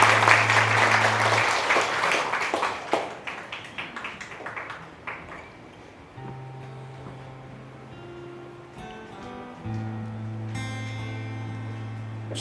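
Audience applause in a church-style gathering at a world united festival, a dense burst of many hands clapping near the start that thins out within a few seconds as soft music and keyboard tones take over.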